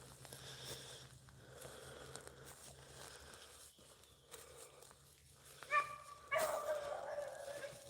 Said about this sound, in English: we've had a couple of barks anyway